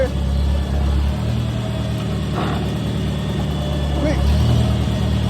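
An IH Farmall 140 tractor engine with a newly replaced clutch runs steadily at a low, loud, throbbing idle close by, with a voice speaking over the rumble.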